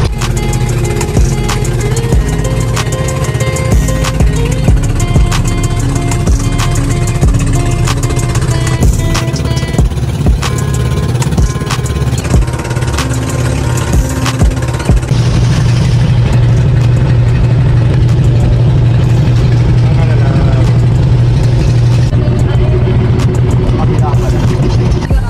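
A motor boat engine runs steadily on the way to an island in the Hundred Islands, Pangasinan, a loud continuous droning hum with a deeper tone after the midpoint, with people talking over it throughout.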